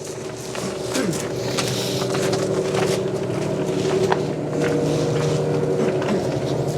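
Gas engines of a cogeneration plant running at full power behind an opened door, a loud steady mechanical drone with layered tonal hum and rattling, faint voices over it.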